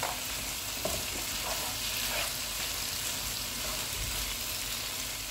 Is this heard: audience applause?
no